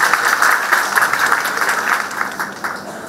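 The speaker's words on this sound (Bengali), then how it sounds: "আজকে একটা জোর করতালি চাইব," Audience applause at a special honours ceremony in Cox's Bazar, a dense, steady clapping from a crowd that is fairly loud and sustained, easing slightly toward the end.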